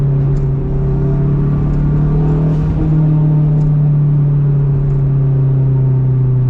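A boosted K24-engined AWD Acura RSX Type S pulling in second gear, heard from inside as a loud, close, steady engine drone with a deep hum and little change in pitch.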